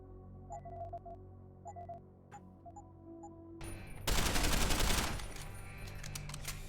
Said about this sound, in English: the gun's a bit loud